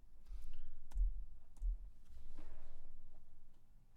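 A few sparse computer mouse clicks while entering a new prescription in pharmacy software, faint and spread out over a low room hum.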